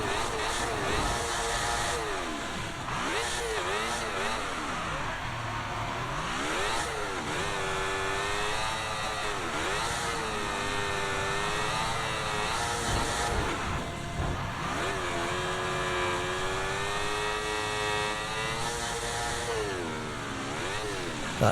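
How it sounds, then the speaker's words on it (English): A struggling car engine in a racing video game, revving and sagging in uneven wavering pitch sweeps throughout, loud and continuous with people talking over it. "That engine doesn't sound particularly happy."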